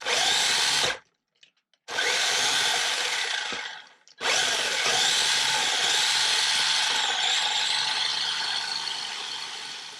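A 1/10 scale PXtoys RC basher's electric motor whines loudly as the car drives forward, cuts out briefly, then whirs again in reverse and forward bursts.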